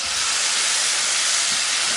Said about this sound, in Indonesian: Ini kita tumis pakai minyak bekas goreng cabai tadi ya